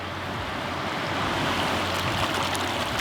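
A cold river rushes at a hiking river crossing near Besseggen in Norway, a steady, broad roar of flowing water with a slight rise in loudness toward the end.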